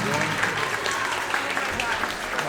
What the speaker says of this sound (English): Would you give those three individuals a round of applause?